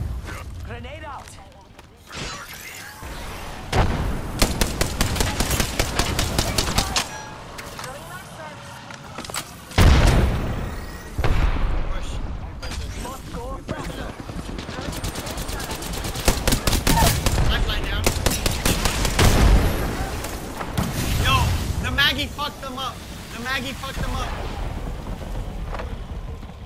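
Gunfire and a grenade blast in an Apex Legends match, with bursts of automatic fire and loud booms recurring throughout, mixed with a player's voice talking over the action.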